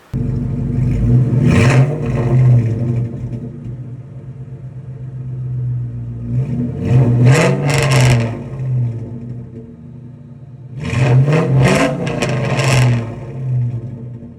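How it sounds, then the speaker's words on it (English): A Ford SN95 Mustang's modular V8 engine with a throaty exhaust revs three times, each rumbling burst rising and falling back to a deep idle. "those modulars sound really good with exhaust, 2 valve or 4 valve."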